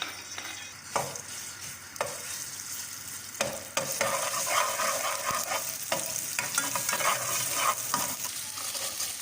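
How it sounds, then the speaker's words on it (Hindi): Ginger paste sizzling in hot oil in a pan for samosa filling, a loud steady crackle that grows after a few spoon taps and scrapes, heard up close with no voices. "जब ये गर्म हो जाए तो इसमें आप अदरक का पेस्ट डाल दें।"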